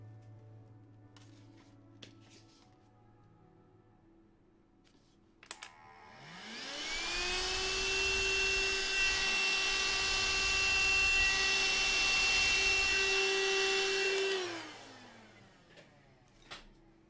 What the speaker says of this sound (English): Vacuum that, see what that's looking like.